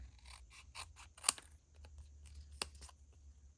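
Scissors snip through a paper tag, a quick series of small, sharp, close cutting clicks with a couple of stronger snaps, irregularly spaced in a quiet room.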